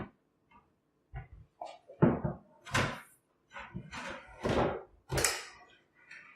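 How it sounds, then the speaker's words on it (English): Drawers of a Brick BOSS cabinet are slid into their grooves, heard as several separate close scraping slides and thuds with quiet gaps between them. "Take our cabinet, take our drawer, and you can see the groove that it's got to insert into."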